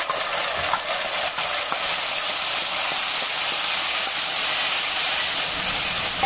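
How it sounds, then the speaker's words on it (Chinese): Doubanjiang bean paste fries in hot oil and is pushed gently around with a spoon, making a loud, steady, even sizzle and hiss that never lets up. "用勺子轻轻地推炒出豆瓣的香味"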